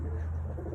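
Pigeons coo softly in a loft, a low steady murmur of calls close by with no talk.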